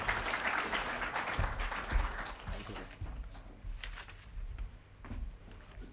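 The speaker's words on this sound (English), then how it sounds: "A big round of applause for Mr. G.P. Madan." Conference audience at an insolvency law event applauds, a burst of many hands clapping that thins out and fades into scattered claps and room noise.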